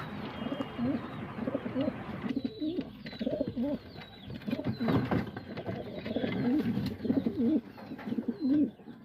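Racer pigeons at a nesting site with eggs and young coo in low, rolling phrases, repeated steadily and close up, with softer bird chirps mixed in and no talking.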